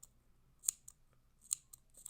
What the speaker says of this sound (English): I'm going to cut the yarn.